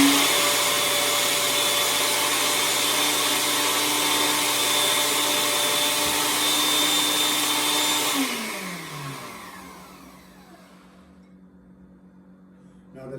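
A grinder whirs loudly and steadily as it grinds a nut blend into powder, its motor holding one droning pitch before switching off and winding down into quiet.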